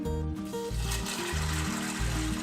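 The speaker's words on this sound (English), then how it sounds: "So I've got a bottle of RO water here, and we want to go ahead and fill this up." Reverse osmosis water pours steadily from a bottle into a cooking pot for a bean and vegetable soup, a continuous close gurgling fill heard under a low background hum, with no talk.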